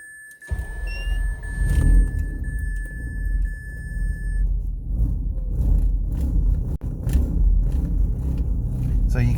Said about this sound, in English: So you can see how it's woo, woo, woo, woo.